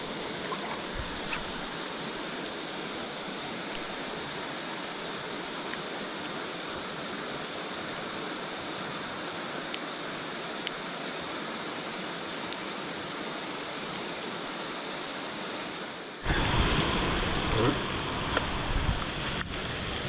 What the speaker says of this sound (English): it is still raining cats and dogs out here